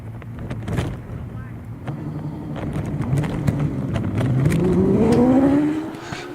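A racing car launches off the start line at a hillclimb in Harewood, its engine note rising and climbing in pitch as it pulls away. Wind rumble and a commentator's voice run underneath.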